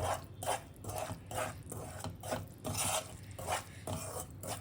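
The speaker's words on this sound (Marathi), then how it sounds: "राजगिराचं पीठ आपण ते तुपावर परततोय" Rajgira (amaranth) flour is roasted in ghee and stirred in a pan. Quiet, regular scraping and rubbing strokes repeat about twice a second over a faint sizzle, with no voices.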